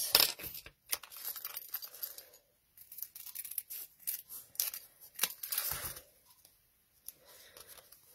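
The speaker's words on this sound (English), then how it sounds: "Let's cut ourselves a strip of this." Scissors cut a strip of material for a Joseph's Coat stamping technique, giving a quiet series of crisp snips and short tearing rustles with brief pauses between them and no talking.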